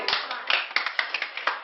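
Small workshop audience clapping, a handful of sharp, uneven hand claps close by over a couple of seconds, fairly light and sparse.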